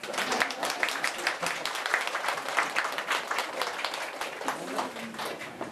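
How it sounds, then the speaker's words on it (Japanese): Audience applause at a seminar in a small room, steady dense clapping from many hands filling the whole stretch at moderate level, with faint voices underneath. "じゃあ皆さん拍手を向けられてください"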